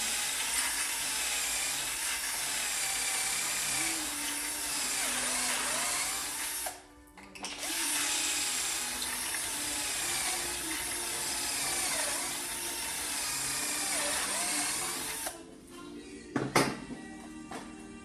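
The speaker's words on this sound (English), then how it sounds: "Take your time drilling these." A power drill bores holes into soft wood, whirring steadily at moderate distance with short pauses between holes and a brief clatter near the end, no talking over it.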